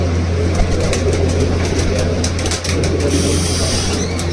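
Pet pigeons in a loft coo and flutter close by, over a constant low hum and a dense, steady wash of sound.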